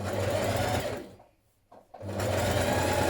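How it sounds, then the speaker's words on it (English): A sewing machine understitches a coat facing a few millimetres from the seam edge, running steadily and loudly, pausing for about a second mid-way, then whirring on again. "you're stitching a few millimetres away from this edge of this seam here."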